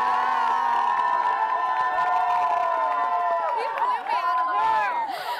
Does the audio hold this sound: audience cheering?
yes